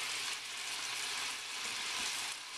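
Steak frying in olive oil in a pan over medium-high heat, a dense, continuous crackling sizzle heard up close with no talking.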